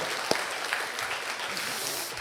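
A church congregation claps together in sustained applause during a worship service, a dense patter of many hands filling the space, with voices mixed in.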